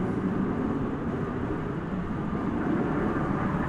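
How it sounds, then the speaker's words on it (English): United Airlines airliner at Dallas/Fort Worth Airport, a steady broadband engine roar rumbling continuously at moderate distance, with no speech. "I think we have a United plane which is getting ready to"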